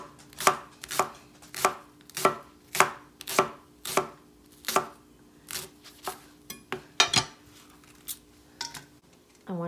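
A knife chops vegetables for Irish soup on a board in about fifteen sharp, evenly spaced strikes, close and loud, with no voices.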